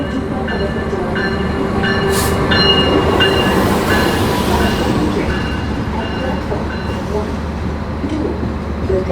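A Taksaka passenger train of PT Kereta Api Indonesia runs with Argo Wilis carriages, a continuous rumble and rattle of wheels on rail heard from inside, with a brief squeal near the start.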